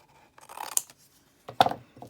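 Scissors snipping through paper for altered journaling, two short crisp cutting strokes close by in an otherwise quiet room.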